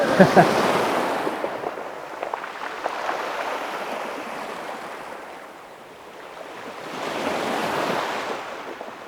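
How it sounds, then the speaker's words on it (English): Ocean swells rolling in and breaking on the shore at sunrise, a broad surging wash that rises, fades and builds again as another wave arrives, with wind noise on the microphone. "So just got to watch for these swells to roll in."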